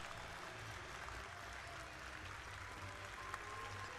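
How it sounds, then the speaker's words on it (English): Crowd applause at a men's volleyball match, Puerto Rico versus Suriname at the 2023 NORCECA Championship, a steady wash of distant clapping across the arena with low sustained noise beneath. "Round of applause for both teams."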